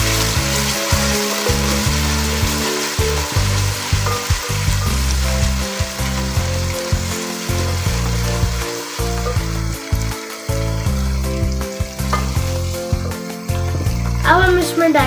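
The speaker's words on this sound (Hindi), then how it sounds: "लहसुन, अदरक और हरी मिर्ची का पेस्ट। अब हम इसे 2 मिनट तक फ्राई करेंगे।" Garlic, ginger and green chili paste sizzles steadily in a pan as a aloo matar dish begins, the frying hiss partly buried under loud background music with occasional clinks.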